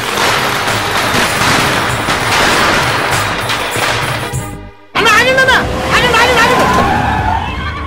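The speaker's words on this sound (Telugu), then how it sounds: "అది కూడా టపాసులు శబ్దం అనిపిస్తుంది" Firecrackers burst during a festive village scene in a Telugu film: dense crackling mixes with crowd hubbub and passing traffic, then stops at a brief cut, after which people are heard talking.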